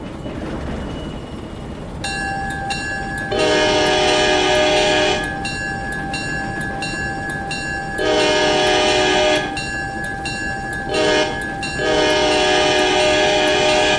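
A GE 44 Tonner diesel locomotive in the Railroader game, a steady engine rumble running throughout with a bright air horn sounding in several long blasts and short toots over it.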